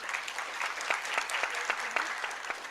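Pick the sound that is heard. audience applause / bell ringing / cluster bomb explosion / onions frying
audience applause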